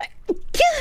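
A single sharp sneeze, with a short intake of breath just before it, close and fairly loud.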